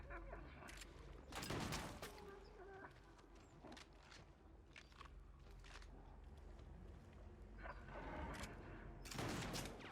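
Gunfire in the video game Little Nightmares 2, heard as loud bursts of shots and volleys with a sharp cluster early on and again at the end, over a constant game background.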